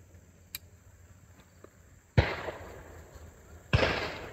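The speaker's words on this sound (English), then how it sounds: "everybody was really digging shooting a Wesley Richards shotgun" Two loud, sharp shotgun blasts from a Wesley Richards shotgun ring out about a second and a half apart over a quiet outdoor background with faint insect buzz and a few small clicks beforehand.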